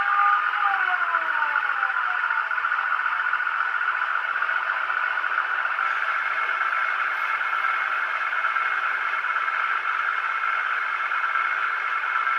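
Siren effect from the sound decoder of a Bachmann MPV model train, a steady electronic wail that holds level and fairly loud for about twelve seconds against a faint hiss, with no talking.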